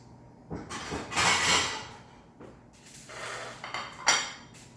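A decorative plate is lifted from among other dishes in a kitchen, giving a few close ceramic clinks and scrapes in two short bursts, with no talking.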